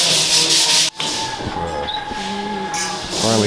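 Sandpaper rubbed over concrete render on a shed wall, a close, continuous rasping scrape with a brief pause near the start, then steady back-and-forth sanding strokes.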